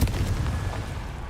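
A Confringo blasting spell explodes in Hogwarts Legacy, a loud deep boom that starts at once and rumbles on briefly.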